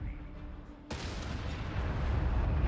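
Artillery fire in the Company of Heroes 3 strategy game, a sudden heavy blast after a quieter stretch, followed by a sustained rumbling roar of continuing bombardment.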